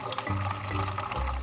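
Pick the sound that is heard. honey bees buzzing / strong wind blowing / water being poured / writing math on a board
water being poured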